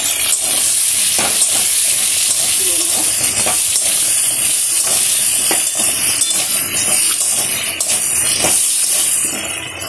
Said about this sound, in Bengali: আলুর মধ্যে সামান্য নুন আর একটু হলুদ দিয়ে আলুগুলোকে লাল লাল করে ভেজে